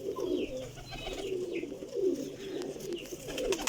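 Pigeons coo in repeated, rolling low phrases close by, one call following another in a steady rhythm.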